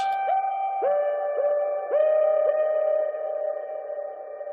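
Ringing, bell-like tones with harsh, crunched distortion and long smeared tails, several struck notes in sequence, with no voices.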